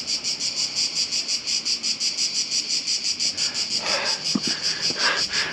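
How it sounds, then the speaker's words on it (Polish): Cicadas drone loudly along a hiking trail near Ston in Croatia, a shrill, pulsing chorus with a regular rhythm close by, joined near the end by faint rustling and a few brief knocks. "tu wszędzie są te cykady"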